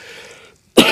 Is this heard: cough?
yes